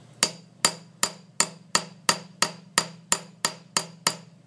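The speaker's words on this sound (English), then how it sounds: "So using the smaller rounded tip of the ball peen hammer, we can go over the surface" A ball peen hammer's small rounded tip strikes a metal surface on a small anvil to dimple it, giving a steady series of about a dozen sharp, ringing metallic taps, evenly spaced and close, with no talk.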